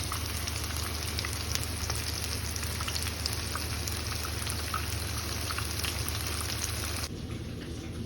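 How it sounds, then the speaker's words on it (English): Battered masala fish frying in a pan, a steady close crackling sizzle with dense popping bursts throughout, easing slightly near the end. "while the fish is frying"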